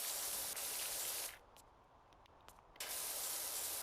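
A pressure washer sprays water on a roof in Power Wash Simulator, a loud steady hiss that cuts out briefly, leaving near silence with a few faint ticks, then resumes at full strength.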